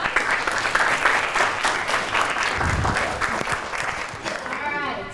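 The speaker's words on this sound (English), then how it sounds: "Can we give a round of applause?" Audience applause fills a university statistics showcase after a student presentation, steady dense clapping from a crowd that holds throughout and thins slightly toward the end.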